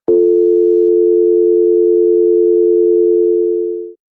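A single steady electronic tone holds unbroken for about four seconds, loud and clear, then cuts off abruptly.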